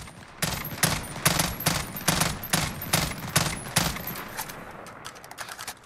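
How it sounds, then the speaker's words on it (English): Rapid three-round bursts from a FAMAS Valorisé rifle in Call of Duty Modern Warfare, about a dozen sharp cracks in tight clusters at a steady pace, clear and close with no talk. "Let's go ahead and just let this rip a couple bursts and see what the recoil looks like on the weapon"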